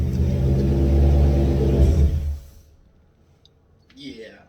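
A car running on E85 fuel, fitted with a new McLeod RXT clutch and MT82 gearbox, rumbles loudly and close for about two seconds, then shuts off into near silence, followed by a brief faint sound at the end.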